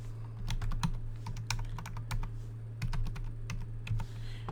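Rapid clicks of keys on a computer keyboard as a zip code is typed into a shipping form, sharp and close in short bursts over a steady low electrical hum.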